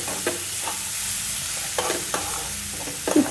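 Spatula stirring avarekai palya (field bean stir-fry) with grated coconut in a frying pan: a few soft scraping strokes spaced apart over a low, steady sizzle, close and moderately loud, with no talking.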